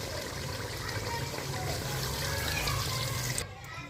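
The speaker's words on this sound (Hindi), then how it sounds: "अब हम इसमें पानी 5 से 6 गिलास डालेंगे, ताकि जो गोश्त हमारा अच्छी तरह से गल जाए।" Water poured from a glass into a pot holding a kilo of beef for nihari, a steady splashing pour lasting several seconds before cutting off abruptly near the end.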